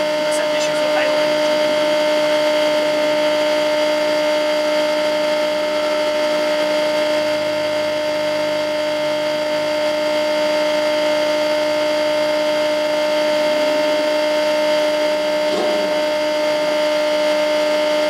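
Honda CRX Si engine idling steadily at an autocross event, a constant near hum with tonal drone and minor fluctuations, no talk over it.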